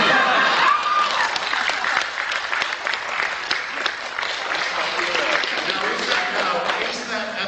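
A large audience at a debate bursts into sustained, dense applause, loud and continuous throughout with a few scattered cheers mixed into the clapping.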